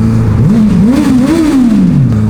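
A motorcycle engine revs up and drops back, one smooth rising and falling pitch sweep over a steady idle, loud and close, no speech.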